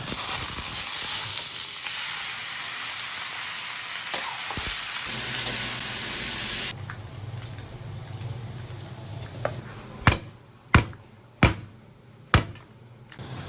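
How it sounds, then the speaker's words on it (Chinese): Pork belly sizzles and hisses steadily as it is stir-fried in a wok, a dense close frying sound that thins out midway, followed by a few sharp clacks of the utensil against the pan. "把这个肉煸一下"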